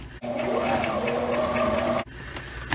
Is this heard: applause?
no